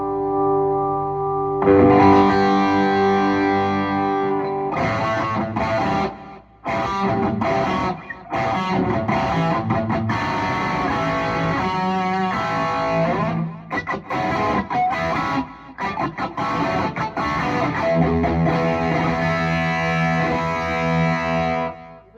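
An electric guitar with a Lambertone Grinder pickup through high-gain distortion, loud sustained chords and fast riffs with brief choppy stops, played alone without talking.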